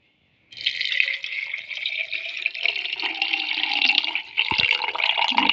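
Water is poured into a container of detox water to top it up, producing a close, continuous gurgling splash that starts abruptly and runs steadily to the end.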